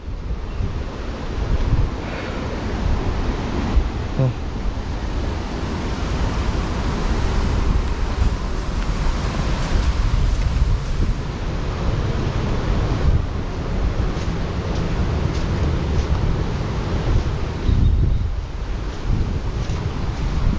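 Strong wind gusts steadily at Pantai Seruni beach in Donorojo, Pacitan, roaring across the microphone in a constant loud rush with surf faintly beneath.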